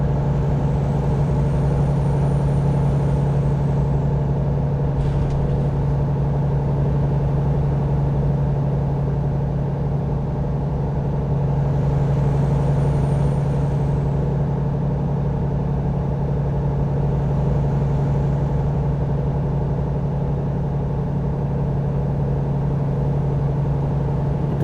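A Volvo truck engine drones steadily from inside the cab in American Truck Simulator, a continuous low hum with a constant pitch, brief faint whistling tones above it, and no talk.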